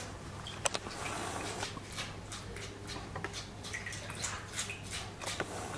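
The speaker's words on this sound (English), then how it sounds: "I will just use a sponge" A sponge wipes a nanofiber window membrane in a basket of plain water, giving soft, irregular drips and wet squishes that stay faint and close, with no one speaking.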